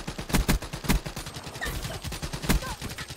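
Rapid bursts of BRM light machine gun fire in Call of Duty: Black Ops 3, with several sharp volleys of gunshots and a few quieter game sounds between them.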